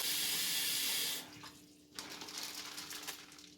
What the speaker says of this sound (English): Let's go ahead and fill this up with water.